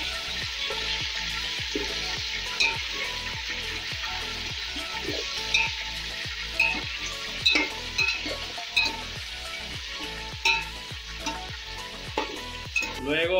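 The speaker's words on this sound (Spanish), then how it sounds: "Después de freír la carne" Chicken and browned onions frying together for biryani, a steady sizzle broken by regular scraping stirs and occasional clinks of a utensil against the pot, close and rhythmic with no talking.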